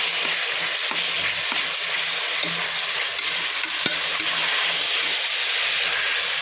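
Tomatoes with mint and coriander sauté in a pan for a winter biryani, a steady loud sizzle with occasional spoon taps and stirring scrapes throughout.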